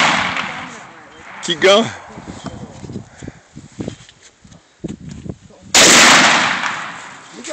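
Gunfire from an AK-47 rifle at an outdoor range near sunset: a few sharp, loud reports with a large blast near the end, separated by scattered footsteps and handling noise, while people talk nearby.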